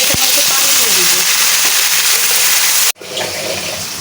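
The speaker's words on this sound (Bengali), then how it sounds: "পেঁয়াজ রসুনটা ভাজা ভাজা হয়ে গেছে, এখন একটু পানি দিয়ে দিব।" Water poured into a hot pan of fried onion, shrimp and garlic paste gives a loud, close, rushing sizzle that holds steady for about three seconds, cuts off abruptly, then returns as a quieter hiss.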